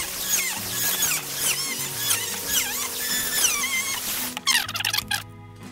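A small electric drill boring holes in wood whines and squeals in rising and falling pitches as the bit spins up and bites, with short bursts and pauses close by, ending in a burst of rattly grinding.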